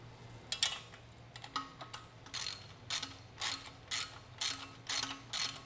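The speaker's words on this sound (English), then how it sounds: "go ahead and grab your tools and tighten it up" A ratchet tool tightens bolts on a Valor Fitness BD-62 wall mount cable station frame, making a close series of rhythmic clicking strokes, roughly evenly spaced and growing steady and regular. No one speaks.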